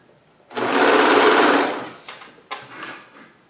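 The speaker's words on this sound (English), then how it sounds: "So now we're just serging the outside of the sleeve." A serger overlocks the outside edge of a cotton Hawaiian shirt sleeve in one close, loud burst of fast continuous stitching lasting about a second, followed by a few softer knocks and handling sounds.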